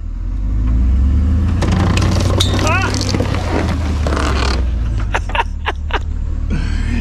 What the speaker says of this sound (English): I'm gonna get Dad to pull it forward a little bit and see if the motor turns over at all